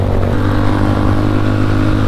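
Honda Fan motorcycle engine running hot and rich on a highway, a loud continuous mid-pitched drone with steady throttle and wind rush, close and unbroken.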